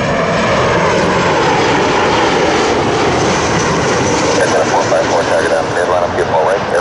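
An airliner roars during takeoff at Toronto Pearson airport, a loud continuous engine rumble and whine, with faint radio chatter blended in.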